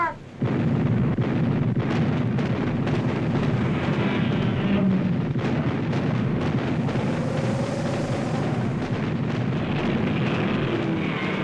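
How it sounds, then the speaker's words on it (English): Radio-drama artillery battery barrage, a continuous dense roar of booming shellfire and rumbling blasts, loud and sustained, with no talk over it. "Fire at will, Lieutenant, and make them count. Battery 1, open fire."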